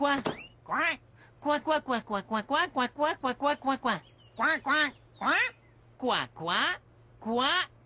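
Cartoon voices imitate duck quacking in French, a rapid run of nasal "coin" quacks in bursts, close and loud over a low steady hum.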